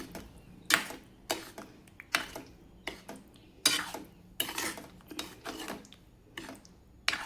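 Palak paneer being transferred into a serving dish: a spoon scrapes and knocks against cookware in a string of sharp clinks and taps, close and fairly quiet, with no talking.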